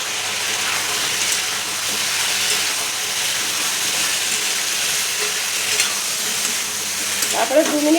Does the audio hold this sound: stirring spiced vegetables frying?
yes